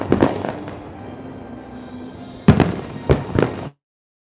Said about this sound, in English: as the fireworks comes near to its conclusion